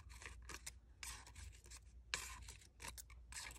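A knife scraping and slicing into a pineapple's center in short, crisp rasping strokes, several quick bursts with pauses between, close and quiet with no talking.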